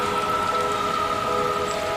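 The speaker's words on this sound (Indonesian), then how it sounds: "Hanya suara hujan yang memecah malam, membuat suasana semakin mencekam." Steady rain falls through a quiet night, an even continuous hiss with no breaks, accompanied by faint steady tones in the background.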